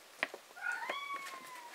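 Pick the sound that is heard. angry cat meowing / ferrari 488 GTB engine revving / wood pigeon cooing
angry cat meowing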